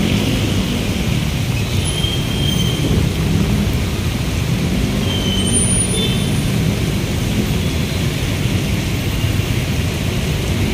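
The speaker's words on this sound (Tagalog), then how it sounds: "Tuloy-tuloy po yung pagbuhos ng malakas na ulan." Loud, dense downpour by the Marikina River roars without letup, a constant heavy wash of rain with low rumbling underneath.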